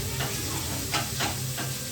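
Vegetables fried with a pinch of salt in a pan, a steady close sizzle broken by three or four quick scraping stirs of a spoon.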